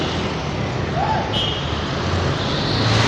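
Steady, moderate roadway traffic hum from cars and trucks surrounds a cyclist riding through congested streets, a continuous wash of engine and tire noise with no talk.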